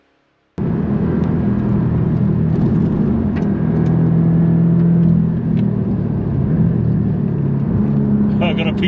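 A Porsche races flat out on the Pau Arnos circuit, climbing to about 166 km/h. Its engine gives a loud, sustained roar heard from inside the car, steady and unbroken for several seconds.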